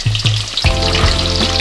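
Crispy chicken sticks fry in plenty of hot oil, a loud, steady sizzle that swells sharply as a piece drops in, with no voices over it.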